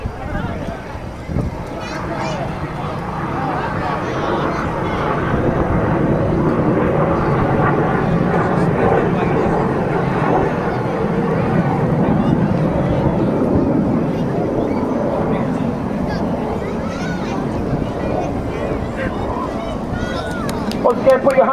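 Synchro pair display jets trailing red smoke over Swansea Bay at the National Wales Airshow make a sustained, distant roar that builds and fades, under continuous announcer commentary over loudspeakers.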